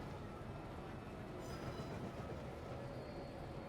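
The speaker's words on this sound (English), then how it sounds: "hopefully they have enough power to get this train up the hill and then back down it" A train hauled by three diesel locomotives climbs a grade on the Catskill Mountain Branch, giving a steady low rumble of engines and rolling cars that is faint and continuous, with no talk.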